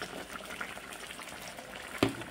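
Fish curry gravy with fried eggplant bubbles on high heat, a faint, steady simmering and popping close by, capped by a short louder splash near the end.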